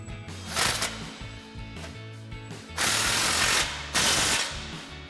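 A ratchet works on the over-axle clamp of a 2.7L EcoBoost Ford F-150 MBRP Armor Lite exhaust. Close, loud bursts of rapid mechanical clicking come in several separate runs, with short pauses between them.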